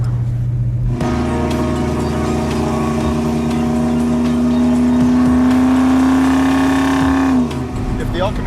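A Chevrolet El Camino engine drones loudly from inside the cab while cruising, its pitch climbing slowly and steadily through a long pull before easing off, with heavy road and wind noise throughout.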